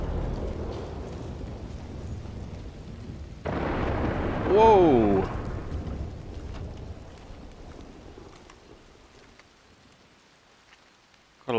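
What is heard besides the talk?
thunderstorm and rain in the video game Red Dead Online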